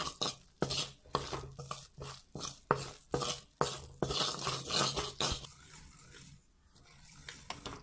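Besan (gram flour) roasting in ghee over a low flame: a spatula scrapes the pan in a brisk, regular rhythm, then the strokes fade to quieter, scattered sounds.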